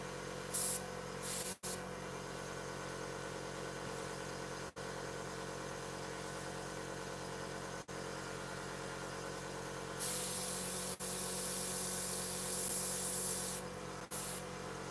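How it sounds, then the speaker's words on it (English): An air compressor running for airbrushing an Eduard 1/48 Tempest Mk.V model kit, a steady mechanical drone broken by brief clicks and short bursts of hissing spray. "let's start the air compressor"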